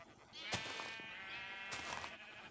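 Sheep in Minecraft bleat twice, a wavering cry near the start and another about a second later, close and clear over a faint game background.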